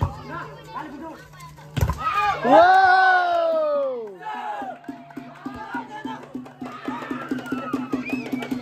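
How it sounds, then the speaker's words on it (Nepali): Spectators at the evening final of a village ball game hoot, shout and cheer loudly, with a long rising whoop followed by rapid rhythmic banging of leaf plates and continued crowd shouting. "निकै नै हुटिङ आएको छ पत्तल बजाई"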